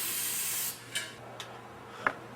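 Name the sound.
spray can applying clear coat to wheel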